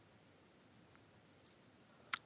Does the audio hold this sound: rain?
no